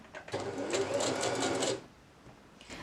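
Sewing machine running a short-length stitch during a garment sewalong, a steady mechanical whirr lasting about one and a half seconds, close and clear, then stopping into quiet room tone.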